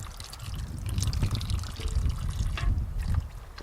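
Fluid and sludge drain from the drain plug of a Farmall tractor, a steady close-up splattering trickle with broadband gurgling and low rumble, fairly loud and continuous, easing off near the end, with no talk.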